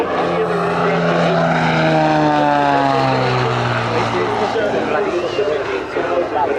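A rare 1986 Beechcraft F-33C Bonanza, certified for aerobatics, drones loudly overhead at an airshow, its propeller engine pitch sliding steadily downward as it passes, while a commentator speaks over the sound.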